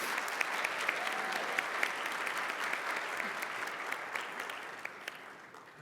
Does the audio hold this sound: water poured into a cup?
no